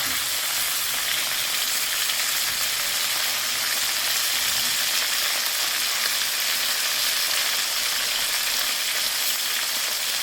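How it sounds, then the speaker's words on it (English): Chicken pieces browning in a pan for Jamaican curry chicken give off a loud, even, continuous sizzle with a fine crackle. It holds steady for about ten seconds, close up and alone, with no talking. "the opportunity to get brown on one side, and then I flip it over on the other side"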